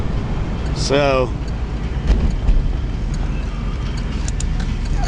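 A 2002 Chevrolet Camaro Z28 convertible drives along with a steady, loud engine and road roar filling the whole clip, while someone speaks briefly near the start.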